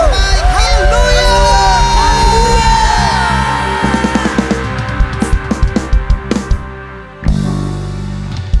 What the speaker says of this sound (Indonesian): Berikan tepuk tangan yang terbaik.